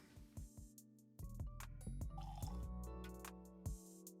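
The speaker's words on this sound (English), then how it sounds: "Right, should we pour the whiskey?" Whiskey is poured from a bottle into a glass, with a few soft clinks at the start followed by a steady, close liquid fill that gurgles and then tapers off.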